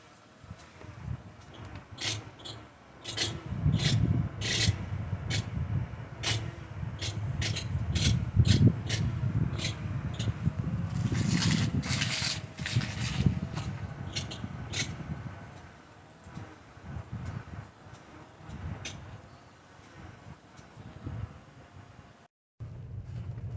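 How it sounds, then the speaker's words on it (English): Used car's steering rasping, rubbing and clicking as the wheels are turned fully left and right during a pre-purchase inspection, fairly faint and continuous with scattered ticks. "it's all sorts of noises coming from the steering"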